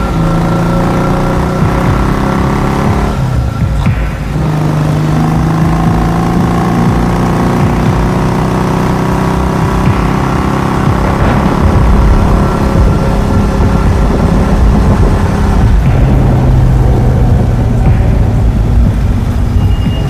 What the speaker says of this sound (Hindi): बाबा ने अपनी बाइक निकाल ली और फिर तीनों शॉन को बचाने के लिए पुरानी हवेली की तरफ चल दिए